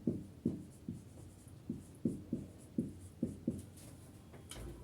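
Pen or marker strokes writing out a chemistry definition, a steady series of short scratchy taps about twice a second, close and clear with no talking.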